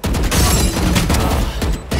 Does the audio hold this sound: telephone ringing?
no